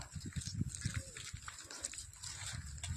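Goats on a farm in the green Konkan countryside, small bleats and animal noises mixed with steady background din, with a person talking over them.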